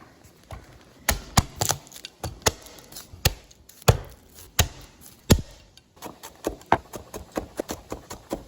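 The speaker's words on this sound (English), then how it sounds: "now we're going to go ahead and mince up our garlic" A knife minces garlic on a cutting board in sharp, close taps that come in irregular quick runs with brief pauses, without any talking.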